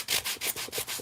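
Rhythmic back-and-forth rubbing of sandpaper on the edges of a wooden craft piece, about six quick strokes in steady succession, close and fairly loud.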